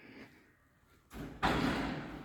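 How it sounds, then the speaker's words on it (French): A basement door opening after a beeper is pressed, a faint hum giving way to a sudden thud and then a louder sustained rumbling slide as the door moves, close by. "j'appuie sur le bip. La porte s'ouvre."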